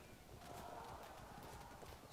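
Clip-clop of horse archers' hooves in the medieval strategy game Field of Glory II Medieval, a faint, steady drumming of many hooves under a low battle murmur.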